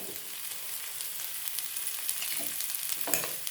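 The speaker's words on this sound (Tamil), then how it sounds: "நல்லா வதங்கினதும் நல்லா வதங்கிச்சு. கருவேப்பிலை" Curry leaves sautéing in a pan for a Tamil home dish, giving a steady, close sizzle and fry crackle with faint stirring scrapes throughout, no voices.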